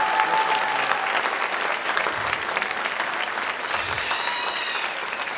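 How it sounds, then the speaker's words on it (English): An audience at a Wayne County, West Virginia all-county band concert claps steadily for a middle school band, a dense, even wash of applause with faint voices mixed in. "give her another round of applause for the middle school band"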